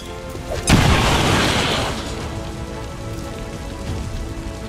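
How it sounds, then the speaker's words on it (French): A grenade in the video game XCOM 2 bursts in a sudden loud boom, followed by a crackling, rain-like debris wash that fades over a couple of seconds, with no voices. "Grenade lancée."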